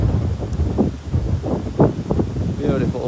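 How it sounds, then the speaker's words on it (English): Outdoor wind buffets the microphone with steady, rushing noise and gusty swells, while a person talks over it throughout. "Oh, it's so windy. I love wind."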